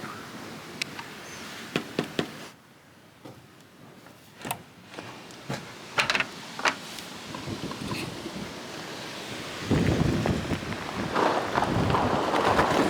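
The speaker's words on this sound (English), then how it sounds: "It's really whipped up into quite some storm now." Stormy wind gusting around a cottage under renovation, a steady broadband roar with scattered knocks and bangs, growing louder and fuller toward the end.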